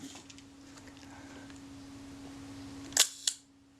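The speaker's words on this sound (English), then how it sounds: "So there you saw that the shutter actually fired" A Braun Paxette Reflex Automatic camera fires its shutter in one sharp double clack over a faint steady hum, then the room falls quiet.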